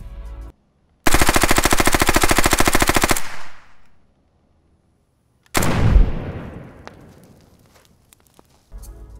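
A machine gun fires a long rapid burst of closely spaced shots, loud and sharp, followed after a pause by a single heavy boom that rings out and decays, with brief fragments of firing at the edges.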